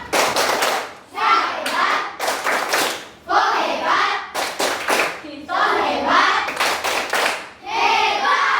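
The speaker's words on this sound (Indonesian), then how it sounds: "Mari kita tepuk hebat kembali. Tepuk hebat." A classroom of children claps in a patterned rhythm, loud crisp bursts separated by short pauses, with children's voices chanting between the claps.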